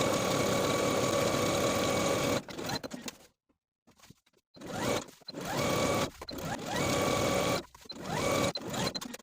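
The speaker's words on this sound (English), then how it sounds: "Go ahead and sew those 2 rows of stitching all around your waistband." A sewing machine runs two rows of stitching around the waistband of a pair of shorts in bursts of fast whirring, broken by brief pauses and one near-silent gap.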